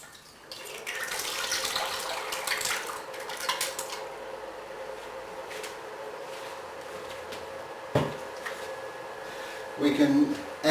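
Water runs and pours steadily into a saucepan of blueberries for kombucha, with a hollow splashing hiss, a few metallic clinks and a brief clatter toward the end.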